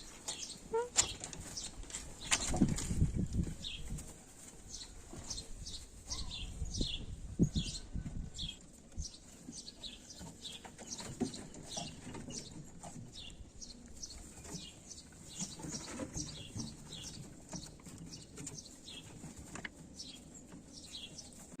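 Many starlings chirp and chatter in quick, scattered bursts around tomato plants, fairly faint, with occasional rustling and knocking noises underneath.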